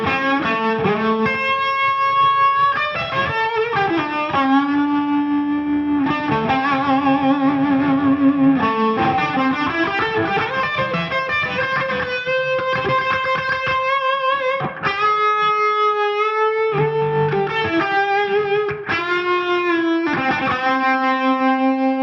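An electric guitar with a Les Paul style tone runs through distortion and effects, playing sustained melodic lines and chords with echo and reverb, loud and continuous with no talking.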